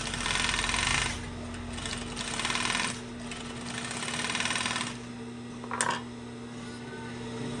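A Juki high-speed industrial sewing machine with a broken needle runs in loud, continuous stitching bursts separated by short pauses, with a sharp metallic tick near the end.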